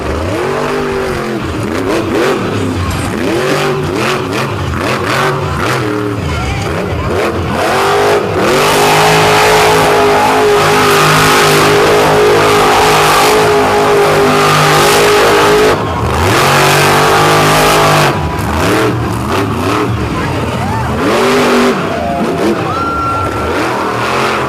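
Monster truck engine at a beach show in Virginia Beach, driven by Grimmel, roaring loud and continuous as the throttle is held wide open, with surging revs and crowd noise underneath.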